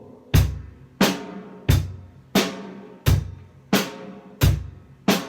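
Eight evenly spaced loud drum hits at a steady slow pulse, each a sharp attack with a ringing decay, played on a drum set in a beginner band lesson.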